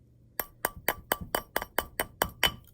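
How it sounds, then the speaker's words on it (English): A wire ring struck against a steel mandrel with about nine sharp metallic hammer taps at a steady, slightly quickening pace, each ringing briefly, close up with no talk. "So I hit it a few times to bring this circle"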